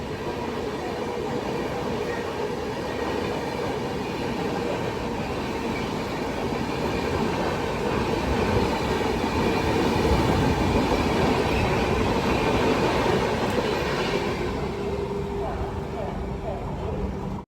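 Poorabiya Express 15280 departing Ghaziabad Junction, heard from inside as a steady rumbling roll with clickety-clack of wheels on rails that continues without a break.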